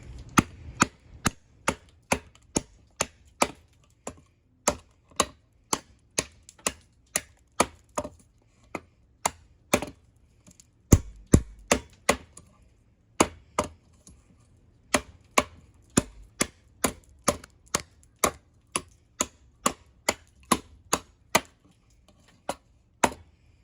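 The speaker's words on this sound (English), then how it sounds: "get some good chopping on it. Let's try that out." Wood being chopped with the Huntsman production-model large knife outdoors: a long series of sharp, loud blade strikes in a steady rhythm, close by, with a brief pause midway and no talking.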